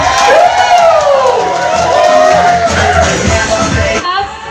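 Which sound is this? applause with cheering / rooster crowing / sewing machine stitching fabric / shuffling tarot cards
applause with cheering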